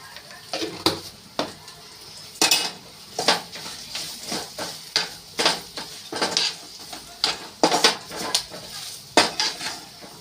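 Cooked rice being stirred with a spoon in a pot while making coconut rice, a series of irregular scraping clinks and knocks against metal every second or so, close and fairly loud over a quiet background.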